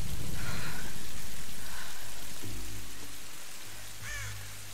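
Rain falls in the Tomb Raider video game, a steady hiss of rain on surfaces that slowly fades, with low rumbling tones and a brief higher sound partway through.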